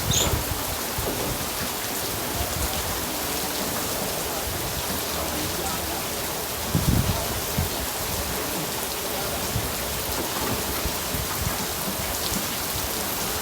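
Heavy stormy rain pours down steadily as a dense, constant hiss across the whole stretch, with a brief muffled voice and bump partway through.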